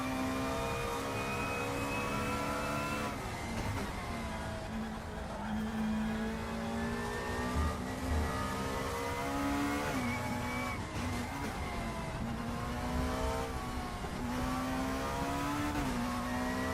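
A car driving hard around the Nordschleife, its engine droning steadily with rising and falling pitch through gear changes, loud and continuous for the whole stretch with no talk.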